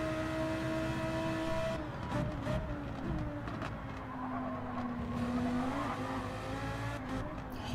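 Radio-controlled GT race cars lap a track at a GT Euro Challenge round at Lago Maggiore, their electric motors making a steady, whining drone that shifts in pitch as cars pass along the start-finish straight.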